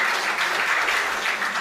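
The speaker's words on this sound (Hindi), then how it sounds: "मैं चाहता हूँ एक बार आप अपने सम्मान में जोरदार तालियां बजाइए भाई।" A brief burst of hearty audience applause at a Hindi poetry recital, many hands clapping together in a continuous, even roar.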